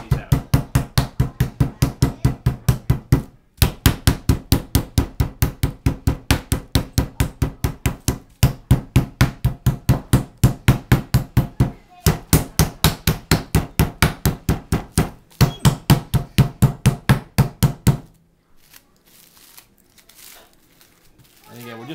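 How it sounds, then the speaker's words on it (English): A meat tenderizer pounds chicken breasts through plastic wrap in a steady run of fast, sharp thuds with a crinkling edge, about four blows a second with a few short pauses, then it stops and leaves quiet room tone. "And then I'm just going to pound these out."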